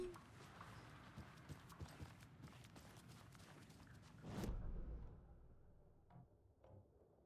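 Rhythmic hoof clops of a horse in Alan Wake 2 plod along steadily under background noise, followed by a thud and a few scattered, quieter clicks.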